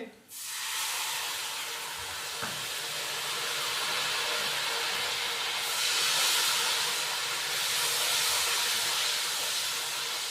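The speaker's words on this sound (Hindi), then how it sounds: "घी हमारा थोड़ा सा ज़्यादा गर्म था तो इसलिए मैंने इमली का थोड़ा सा पल्प डाला" Tamarind pulp hits very hot ghee in a biryani pot, setting off a sudden loud, steady sizzling hiss that carries on without a break.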